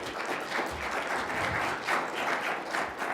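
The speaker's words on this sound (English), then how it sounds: "Big round of applause for Anupama." Applause from a conference audience after a streaming media presentation, a moderately quiet but steady crowd of clapping hands with gentle swells in intensity and no talking over it.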